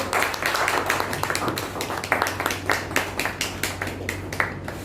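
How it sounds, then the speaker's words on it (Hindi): An audience at an ITI interview event claps in a steady run of close, sharp handclaps lasting several seconds, loud and uninterrupted, with no voices over it. "ताली हो जाइए सब लोग।"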